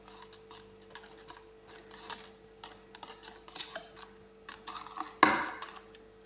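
Maida flour being stirred into sponge cake batter for a cooker-baked cake, heard as light, irregular clicks and taps of a utensil against the bowl, quiet and close, with one sharper knock near the end and no talking.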